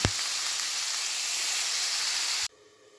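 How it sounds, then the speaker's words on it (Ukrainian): Onion and carrot stewing in a pan give off a steady, close sizzling hiss that holds evenly for a couple of seconds, then cuts off sharply into near quiet. "ось цибулька морковка у мене тушкується"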